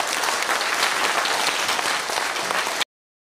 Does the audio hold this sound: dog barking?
no